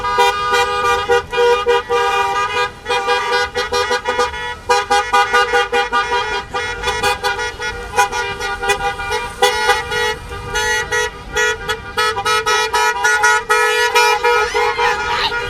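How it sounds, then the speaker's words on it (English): Cars drive past during a graduation, honking their horns in repeated toots and long blasts over a steady run of traffic for several seconds, with voices faintly underneath. "as we watch these cars drive by"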